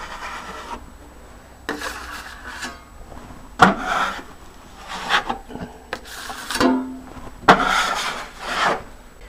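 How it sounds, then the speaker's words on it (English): A drywall knife scraping plaster over a patched hole in drywall, repeated rasping strokes each lasting about a second, close and fairly loud, with short pauses between passes. "So laying down is just getting the plaster a little more smooth."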